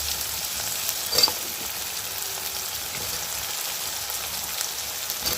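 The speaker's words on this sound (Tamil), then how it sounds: "வெண்டைக்காயும் சேர்த்து அதையும் ரெண்டு வதக்கி வதக்கிடலாம்" Okra sautéing in a pan, a steady, dense sizzle that carries on throughout, with one brief scrape of stirring near the start.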